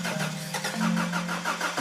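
A Honda Prelude, a low-mileage first car, cranks and catches, its engine note steady and close throughout without settling into a clean idle.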